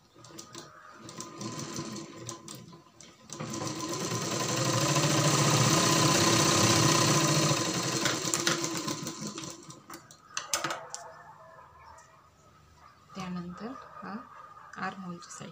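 Sewing machine stitching tucks into a four-tuck blouse, running in a steady close whir for several seconds that builds and then fades, followed by short bursts and some handling, with someone talking at times.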